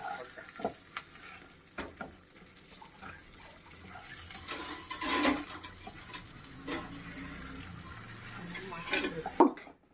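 A caramel popcorn mixture is stirred in a pot on the stove, with soft scraping strokes and a gentle sizzle coming and going, plus a few louder clinks near the end.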